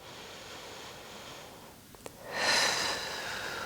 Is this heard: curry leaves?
no